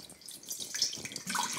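Water splashes and trickles into a pot at close range, a short, bright pour without any voices.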